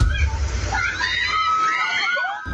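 Raging floodwater rushes through a street under construction in Batasan Hills, Quezon City, after heavy rain, a steady loud wash and slosh with distant shouting and voices mixed in.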